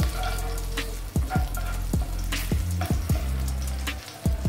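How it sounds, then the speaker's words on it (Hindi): A halved green chilli frying in hot oil for a kala chana curry, a steady close sizzle broken by several sharp pops and spatters. "चलिए इसको हल्का सा फ्राई करेंगे"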